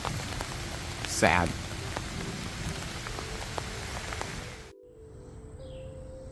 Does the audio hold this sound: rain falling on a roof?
yes